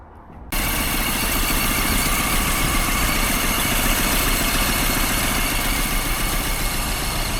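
Suzuki Samurai engine idles steadily with its radiator fans running, a loud, constant close-up drone and whir that kicks in after a brief quiet moment and holds unchanged, outdoors in a snowy blizzard.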